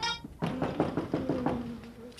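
Knocking on a house door: a quick series of about five or six dull raps at a moderate distance, fairly quiet, preceded by a brief tonal sound.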